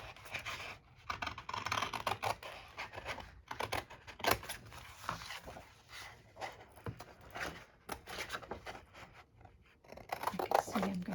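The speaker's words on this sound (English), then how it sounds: "No, I'll cut it right off here." Scissors cutting through junk mail paper in several short snipping bursts with pauses, close and fairly quiet, accompanied by light rustling and a person talking.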